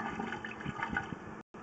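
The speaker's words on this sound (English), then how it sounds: "he just flushed it, so the water should be appearing here in maybe a couple seconds." Water from a toilet flush rushes through a residential sewer pipe during an inspection, a steady close churning flow with bubbling swirls, briefly cutting out near the end.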